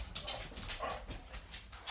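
A puppy eager for a treat whimpers and gives short barks, close by and fairly loud, over a steady background rumble.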